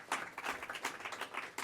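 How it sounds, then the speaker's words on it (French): Scattered audience clapping after a conservation summit presentation in Québec, a brief, moderately faint patter of hands lasting under two seconds with no talk over it. "On peut applaudir."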